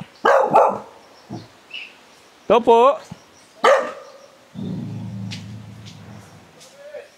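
A dog barks several times in short bursts nearby, between brief bits of a person talking.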